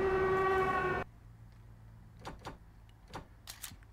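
A loud, sustained blaring air horn in a video game, with strong harmonic tones, lasts about a second and cuts off abruptly, followed by a few faint chirps.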